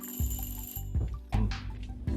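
An automatic electronic bike bell dings in a few distinct, sustained tones lasting nearly a second each, close and clear against a quiet background.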